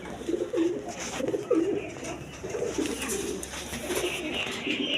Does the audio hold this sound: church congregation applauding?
no